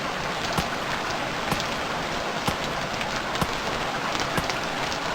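Heavy rain in the video game Stranded Deep pours steadily, a dense hiss of drops on surfaces with periodic sharper patters, loud and constant without any voices.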